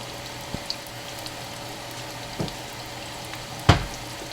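Garlic frying in warm oil for pancit, a steady soft sizzle with a few faint stirring clicks and one louder clatter near the end, no talking.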